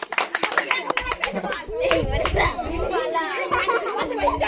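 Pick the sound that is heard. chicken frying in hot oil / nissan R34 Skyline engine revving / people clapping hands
people clapping hands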